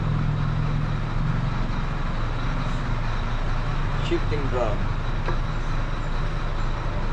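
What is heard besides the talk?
road traffic noise outside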